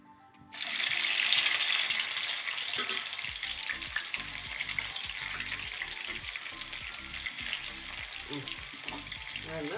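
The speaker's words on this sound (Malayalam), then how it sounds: "ഒരു കടായി അടുപ്പത്ത് വെച്ചിട്ടുണ്ട് അതിലേക്ക് ഓയിൽ ഒഴിച്ച് കൊടുത്ത് നല്ലവണ്ണം ചൂടായി വന്നിട്ടുണ്ട് അതിലേക്ക് നമുക്ക് പാവയ്ക്ക പീസുകൾ ഇട്ട് കൊടുക്കാം" Bitter gourd pieces drop into hot oil in a kadai and burst into a loud, steady sizzle that runs on continuously, with occasional stirring and clatter underneath.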